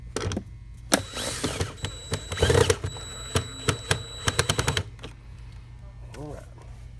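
Power driver spinning out the last screws on the back of a vacuum's motor housing, heard as short repeated whirring bursts with clicks, close up, with a person talking partly over it.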